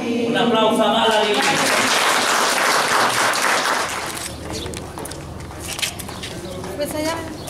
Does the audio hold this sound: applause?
yes